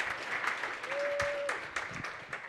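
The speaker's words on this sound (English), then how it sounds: "So we can please give another round of applause to Neo and Tina." Audience applause at a leadership gathering, a moderate spread of clapping across a room, steady but not loud, with a brief voice or tone rising through the middle.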